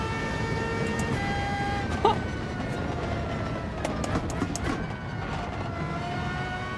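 High-pitched racing car engine whine in Gran Turismo 7, steady tones shifting between gears with a short sharp blip around two seconds and faint clicking throughout.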